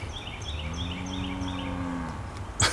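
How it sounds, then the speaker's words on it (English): Cattle beside a rural South Carolina roadside let out a long, drawn-out moo at moderate distance, with birdsong chirping in the background and a sharp knock at the very end. "Some curious cattle."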